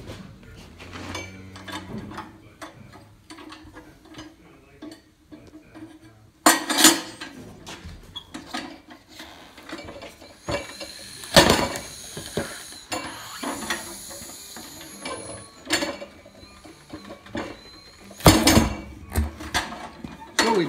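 Someone works a Harbor Freight manual portable tire changer to break a tire bead off a rim, producing scattered metallic clanks, knocks and ratcheting clicks, with a few sharp loud strikes between quieter handling noises.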